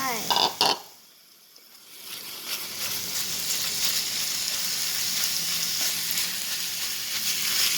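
Minced garlic stir-fried in a pan for a simple minced-pork dish: after a couple of utensil knocks and a brief lull, a loud, steady sizzle builds and holds to the end.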